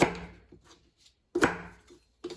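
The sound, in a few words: roughly chopping carrots into chunks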